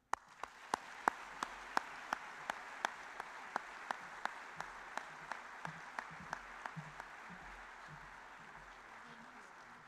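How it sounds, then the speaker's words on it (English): An audience applauds at a 2022 South Dakota high school sports awards ceremony, giving steady, moderately distant clapping over regular sharp ticking clicks that fade out after several seconds. "please join me in giving a big round of applause"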